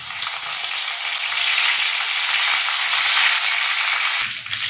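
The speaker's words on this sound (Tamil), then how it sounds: "கடுகு வேக வச்சுட்டு பெருஞ்சீரகம் கொஞ்சம் போட்டுக்குவோம். கறிவேப்பிலை கொஞ்சம் போட்டுக்குவோம்." Mustard seeds, fennel and curry leaves fry in hot oil with a loud, dense, continuous crackling sizzle that eases slightly toward the end, with no voices.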